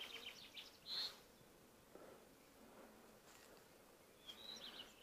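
Bees and other pollinators buzz around blossoming cherry trees in a hot orchard, a soft, continuous drone that is fairly faint and close, with a few brief louder passes and light bird chirps behind.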